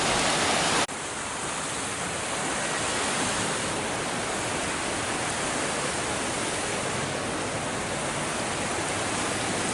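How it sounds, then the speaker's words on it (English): The River Darro rushes out of a town-centre culvert outflow in a loud, continuous broadband roar of churning water, close and unbroken. "the River Darro is culverted all the way through the centre of town, and here's the outflow"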